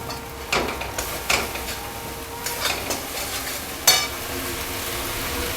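Ground coriander and green chili fry in a pan over lowered gas while they are stirred for a fish-head chhyachra dish. A soft continuous sizzle runs throughout, broken by a few scraping stirs, close and alone without any voices.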